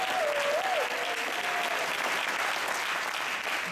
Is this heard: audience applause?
yes